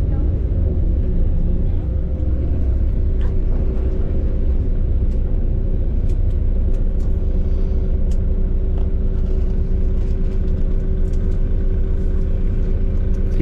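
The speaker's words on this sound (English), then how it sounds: "This is the bus terminal here in Olongapo City." Vehicles at a bus terminal in Olongapo City, Philippines, give a continuous low engine rumble and traffic drone, with scattered clicks and knocks on top and someone talking over it.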